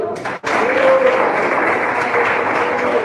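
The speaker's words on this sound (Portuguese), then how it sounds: "Quem bate palmas?" Church congregation clapping hands during a sermon, dense loud applause that starts after a brief gap and carries on steadily.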